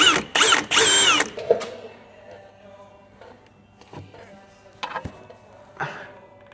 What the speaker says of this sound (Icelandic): Ég ætla að bora.